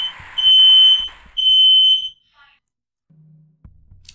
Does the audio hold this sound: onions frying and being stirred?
no